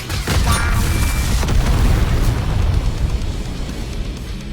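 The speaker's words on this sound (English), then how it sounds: "Big bang attack" A huge big bang attack explosion in the game Nikke booms out as a loud, deep, sustained rumble that swells at the start and slowly fades, with no speech over it.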